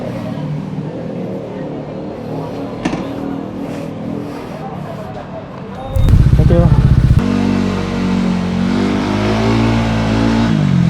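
A small Honda Giorno scooter engine hums steadily, then revs up louder as the scooter pulls away on the road, with a voice speaking over the motor.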